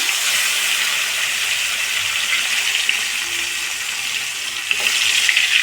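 Dried fish frying in hot oil with turmeric, cooked village-style for a tomato curry, gives a steady, close sizzle with a faint crackle that swells slightly near the end.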